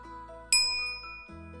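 A bright notification bell dings once, a clear metallic chime ringing out and fading over soft background music.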